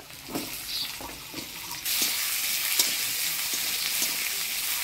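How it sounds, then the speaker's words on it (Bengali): Potatoes dropped into hot oil with black cumin and chopped onion, a broad close sizzle that swells abruptly partway through and stays loud, with a few soft knocks and stirs, no talk. "কালো জিরা, পেঁয়াজ কুচি, এবারে কাটিয়ে রাখা আলু দিয়ে দিব।"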